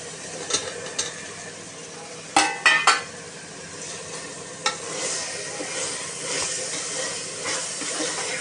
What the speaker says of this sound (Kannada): ಈಗ ಮಶ್ರೂಮ್ ಹಾಕ್ತೀನಿ ನಾನು